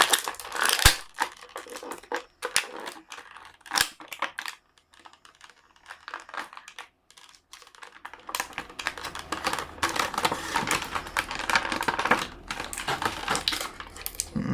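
Marvel Legends Spider-Man (Miles Morales) Gamerverse figure being pulled out of tight packaging, a run of close crinkling, crunching and clicking plastic and cardboard noises, sparse at first, then denser and busier toward the end, with no talk.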